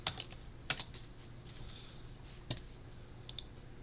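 A computer keyboard is typed on while storing a view in GrandMA3 lighting console software: a few sparse, crisp key clicks in short bursts, close and fairly quiet, separated by pauses of faint room hiss.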